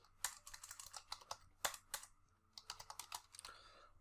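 Quiet, close-up typing of code on a computer keyboard, with quick irregular bursts of key clicks and brief pauses, no voices.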